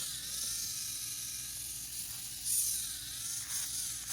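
Glitter nails being buffed with an electric buffer, giving a steady high-pitched whirring drone throughout, with slight swells in intensity and no talking.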